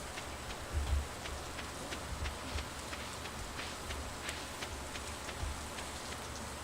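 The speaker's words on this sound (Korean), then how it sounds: "비가 오네 또 오늘은" Steady rain falls in the farming video game Stardew Valley, a continuous soft patter of drops with scattered brighter taps, fairly quiet and even throughout with no voices.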